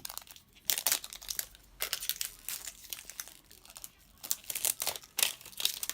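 LOL Surprise Glitter toy packaging being opened by hand: close, bright crinkling and tearing of plastic and foil in irregular bursts, with rustling pauses between, and no talking.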